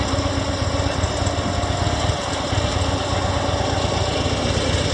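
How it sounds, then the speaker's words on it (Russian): A motorcycle engine runs steadily and close by, a continuous buzzing, throbbing drone with a fast pulsing rhythm and no other sounds over it. "У меня самый тихий мотоцикл."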